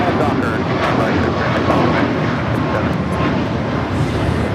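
Southwest Boeing 737 MAX 8 jet roaring on takeoff at LAX, a loud steady broadband engine rumble and hiss that holds throughout, with voices faintly underneath.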